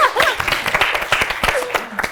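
Audience members at a science week quiz applaud a contestant with close, uneven clapping throughout. Voices and chatter mix in with the clapping.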